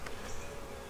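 Honey bees buzz in an open hive during a spring inspection, a steady, close, fairly faint hum that holds throughout with no talking.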